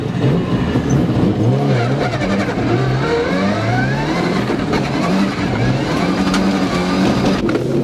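A rally car, either a 2016 Ford Focus RS or a Subaru STI, drives off in a race with a loud, steady engine drone that climbs and falls through the gears, with tyre scrabble and skidding throughout.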